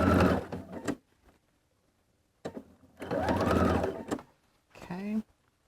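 A sewing machine runs along a shirt seam in three short bursts of quick, close mechanical whirring, separated by brief silences, quiet overall.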